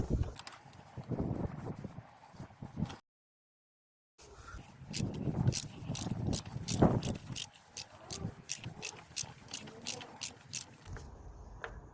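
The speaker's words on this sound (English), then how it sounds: "we're gonna use a 16mm socket to remove the spark plug" A ratchet on a 16mm socket works loose the spark plug on a Kawasaki J125 scooter, giving a close series of crisp, evenly spaced clicks over faint handling noise, with a brief silent gap early on.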